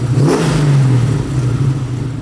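Small car engine revving hard close by at a karting outing, a loud droning note that rises quickly and then holds steady and throaty for about two seconds.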